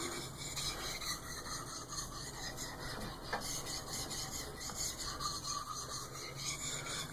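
Steady close scraping of a CPM M4 steel knife drawn with light pressure across a wet Naniwa whetstone, a continuous gritty rasp without pauses and no talking.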